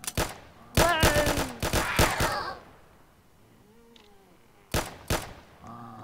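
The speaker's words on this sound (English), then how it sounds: "I shot him with everything I had." Gunfire from weapons shooting zombies in a Roblox game: rapid clusters of sharp shots in a dense burst, then a quieter stretch with moaning game sounds, followed by a few more loud shots near the end.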